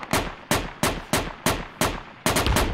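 Evenly spaced single gunshots from a rifle in the Project Reality military shooter video game, seven sharp loud reports roughly half a second apart with short decaying echoes, the last followed by a rapid double shot.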